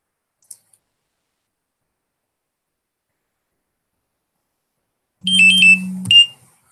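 An alarm goes off abruptly after near silence and a single early click, a short loud electronic ringtone-like tone with a steady low buzz that lasts about a second.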